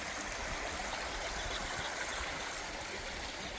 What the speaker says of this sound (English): But we're chilling down here by the creek.